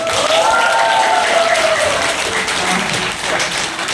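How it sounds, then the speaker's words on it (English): Applause fills a law college classroom as students clap for their teachers on Teachers Day, a dense, steady wash of many hands over the whole stretch, with faint voices and cheering mixed in. "Let's clap for them."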